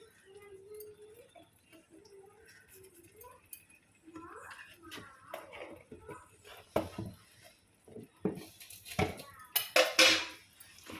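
A spoon stirs gongura chutney in a pan, scraping and clinking against the metal in irregular strokes that grow louder and busier toward the end, up close, with faint sizzling and a voice speaking briefly early on.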